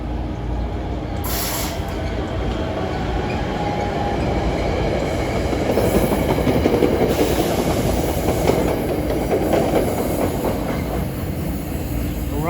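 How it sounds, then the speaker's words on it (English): Electric locomotive hauling a New Jersey Transit commuter consist to Gladstone rolls past up close, a steady rumble of wheels and rail clatter with brief high squeals, no voices. "This is train 419 to Gladstone, but he has an electric locomotive on this consist."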